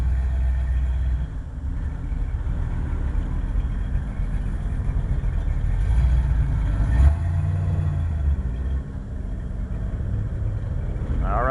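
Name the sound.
car accelerating out of the pits on a race track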